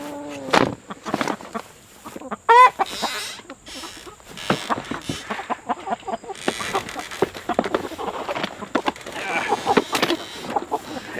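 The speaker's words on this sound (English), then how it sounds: "These are just big, these are big chickens" Big chickens cluck and squawk close by in a busy, irregular chorus, with scattered sharp calls and rustling throughout, and voices mixed in among the birds.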